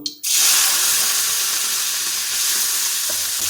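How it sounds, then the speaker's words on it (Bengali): Cleaned freshwater snails (gugli) hit hot oil in a pan, setting off a sudden loud sizzle that holds steady and close, with a faint clink of a utensil near the end. "এখন আমরা এই গরম তেলের উপরে আগে থেকে পরিষ্কার করে ধুয়ে রাখা গুগলিটা যোগ করে দেব"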